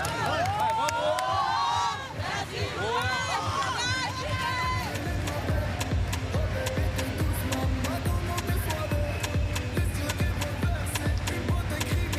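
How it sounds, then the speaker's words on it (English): A crowd cheers and roars continuously through a women's sitting volleyball bronze medal match between Canada and Brazil at the Paris 2024 Paralympics. The arena noise is loud and sustained, with clapping and shouting, and a commentator speaks over it. "the crowd building and building here on day 10 of the 2024 Paralympics"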